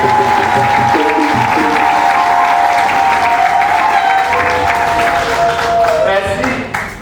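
A crowd at a priest's ordination applauds the parents, dense sustained clapping that fills the room throughout and begins to fade near the end, with a voice faintly audible over it.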